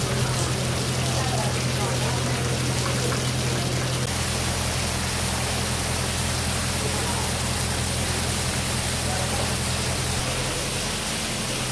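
Steady rain falling on Jekyll Island, a dense continuous hiss that stays loud and even throughout with a low hum underneath.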